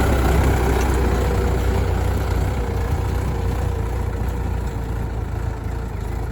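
A Mahindra tractor engine idles close by in the evening, a steady low diesel rumble with a constant throbbing hum that holds even and loud throughout, no voices over it.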